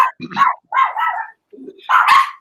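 A dog barks in several close, loud bursts at home, with short pauses between the outbursts.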